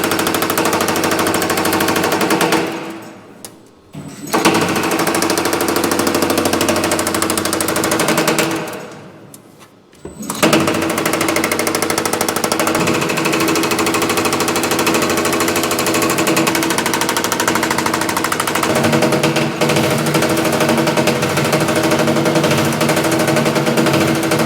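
Sheet metal panel being shrunk by a power shrinking machine, a loud, rapid hammering chatter running continuously, broken by two brief pauses before resuming at full intensity.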